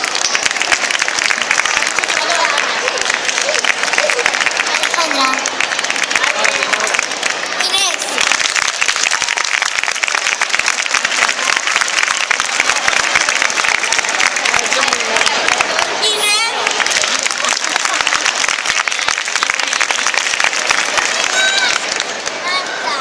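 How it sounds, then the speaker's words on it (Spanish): Sustained audience applause at a live Patito Feo show in Valencia, 2010, with a crowd clapping loudly and continuously and cheering woven through it. "¡Aplauso, hombre!"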